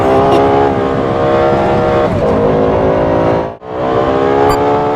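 Lexus car engine revving hard as it accelerates, a loud, close, steady harmonic roar that climbs, dips briefly to near silence for a moment, then returns at full strength.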